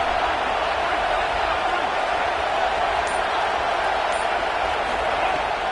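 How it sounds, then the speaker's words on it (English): Steady, dense roar of a home crowd in a college football video game, cheering without letup and filling the whole stretch like a wall of noise. "how nice is it to have the home crowd going absolutely bananas"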